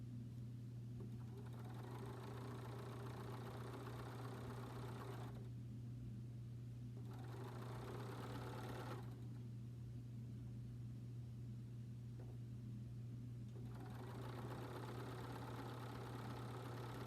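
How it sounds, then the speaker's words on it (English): A sewing machine stitches fabric in three separate runs of steady, fast whirring, each lasting a few seconds with quiet pauses between, over a constant low electrical hum. "And now I can sew this one onto here."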